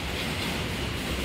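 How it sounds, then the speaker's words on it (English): New York subway 2 train passing at Junius Street/Livonia Avenue, a close, loud, continuous rumble of wheels and cars rolling by with no break. "It's a two train!"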